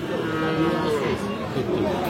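Cattle, including Friesian cross bull calves, moo in long, low, continuous lows that overlap, close and loud, with a faint murmur of voices behind at a livestock market.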